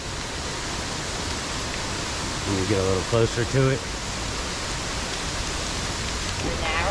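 A steady, loud rush of falling water fills the air at Ben's Bluff waterfall in the Cockscomb Basin Wildlife Sanctuary after heavy rain, constant and close, with a person briefly speaking over it.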